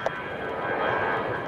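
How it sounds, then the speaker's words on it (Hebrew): A steady, broad roar of a landing Boeing 747 cargo plane, continuous and fairly loud, holding level without breaks. "תראה איזה גדול, זה בואינג. בואינג 747."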